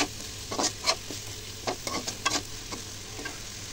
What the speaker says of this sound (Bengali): এখন আমি নেড়ে দিচ্ছি।